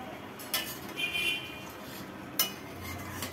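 The lid comes off a cooking pot of jackfruit and prawn curry with soft clinks and rattles, followed by faint clatter and a low sizzle, fairly quiet and close.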